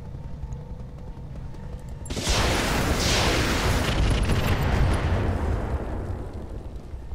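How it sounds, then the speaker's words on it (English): Artillery barrage from the mech combat game Roguetech: a loud, sustained roar of overlapping explosions erupts suddenly and rumbles continuously for several seconds without talk. "I just drove into the barrage"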